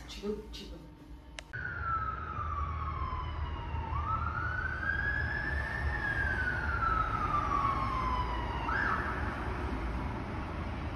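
A wailing emergency siren from a fire engine in London rises and falls in long sweeping tones, loud and steady over constant street rumble after a brief burst of other noise at the start.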